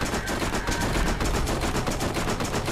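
Rapid SMG gunfire in the video game Borderlands rattles loudly and continuously in quick bursts, dense and close, filling the whole stretch without speech.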